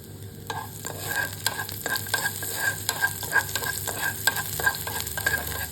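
Garlic sizzles in hot oil in a wok while a utensil scrapes and stirs in steady, repeated strokes, close and clear, with no talking.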